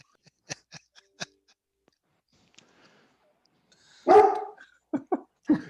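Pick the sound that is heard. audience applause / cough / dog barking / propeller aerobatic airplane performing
dog barking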